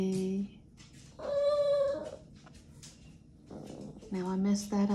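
A puppy whimpers and whines in short, high pitched bursts, a few separate cries spaced across the moment, close by, with a person speaking softly in between.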